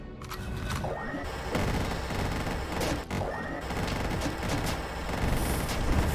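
Rapid gunfire from shooting at fire enemies in the roguelike game Dungreed, a dense steady barrage of repeated shots with crashes layered throughout, loud and continuous with no talk.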